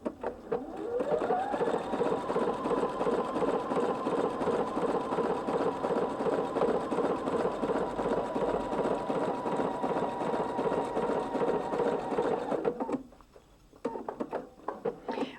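Sewing machine stitching through a single layer of fabric while quilting, a long continuous whirring run that rises at the start and stops near the end, followed by brief handling noises.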